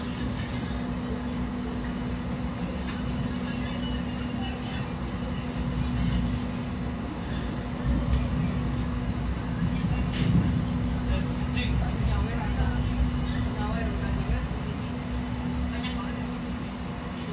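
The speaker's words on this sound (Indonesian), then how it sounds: "Jadi ini sudah berangkat dari stasiun Kiara Condong ya." Steady low rumble and hum of the Mutiara Selatan night passenger train departing Kiaracondong station toward Yogyakarta, with a constant tonal drone and faint rattles throughout.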